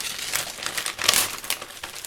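Paper is handled close up for a Halloween craft tag, crinkling and rustling in quick, irregular bursts over about two seconds with no talking.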